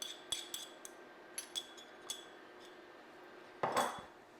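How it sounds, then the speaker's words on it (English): A spoon stirring gelatin in a pan, giving sparse, light metallic clinks and taps at irregular intervals, then a brief louder scraping rattle near the end, with no talking. "we're going to basically keep stirring it and make sure that all the gelatin is evenly distributed"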